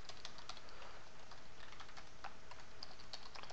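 Java code typed on a computer keyboard: steady, quick, fairly quiet key clicks in an irregular rhythm, heard alone with no talking.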